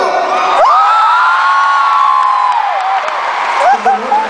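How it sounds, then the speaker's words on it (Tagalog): A concert crowd in an arena roars with loud, sustained cheering and high whoops that swell and hold for several seconds, dense and close, with a raised voice rising above it. "Magmalakpakan na may kasamang hiyaw ang naniniwalang si Ethel ang nasa video!"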